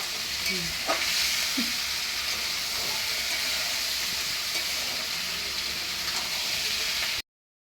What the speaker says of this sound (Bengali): এই চিকেন কষা হচ্ছে